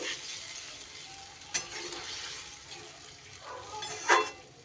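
Boiled gourd and potato being stirred into spices in a pan, giving a soft, steady sizzle with light scraping strokes and a brief sharper clatter near the end.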